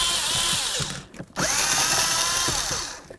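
A power drill whirs loudly while removing the mounting bolts of the blower motor resistor on a 2002-2008 Dodge Ram 1500, running in two long bursts split by a brief pause, close to the microphone.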